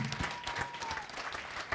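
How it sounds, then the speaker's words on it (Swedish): An audience at a Swedish parasport gala applauds, a brief burst of dense, steady clapping filling the hall from start to finish. "En applåd till honom."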